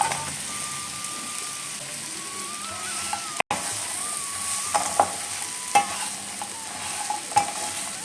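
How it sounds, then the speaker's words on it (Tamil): Fried yam pieces are stirred through masala in a pan, the spoon scraping in a steady rhythm over a soft, constant sizzle, with a few sharper clinks close by. "இப்போ நம்ம பொரிச்ச கிழங்குல எல்லாத்தையும் மசாலாலாம் நல்லா கோட் ஆகணும் நல்லா கலந்துக்கலாம்"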